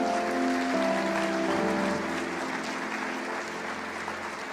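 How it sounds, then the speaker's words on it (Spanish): Congregation at a church service applauding together, a steady wash of many hands clapping that holds loud and then eases slightly, with a sustained musical tone underneath. "Dale un aplauso a Jesús"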